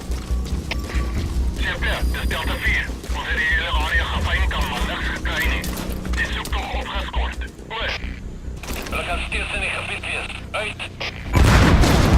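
A C4 charge detonates and destroys a separator tank in a Metal Gear video game. Voices and busy game noise run throughout, then a loud, sudden blast erupts near the end.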